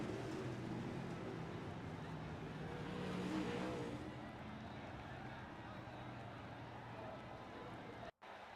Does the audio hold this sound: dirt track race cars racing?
yes